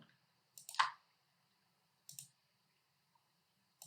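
A few sparse computer mouse clicks on a reset button, crisp and close, separated by silence with one double click near the start.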